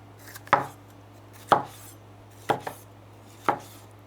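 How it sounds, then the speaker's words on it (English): A knife chops a large bell pepper on a cutting board, four sharp, evenly spaced strikes about a second apart, close and clear over a low steady hum. "we're gonna cut the pepper next"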